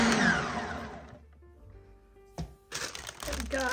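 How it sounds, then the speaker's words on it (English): Carrots are shredded for a gluten-free carrot cake, with a whirring, crunchy burst at the start and another loud one near the end, separated by a quieter pause. "First thing I'm going to do is shred my carrots."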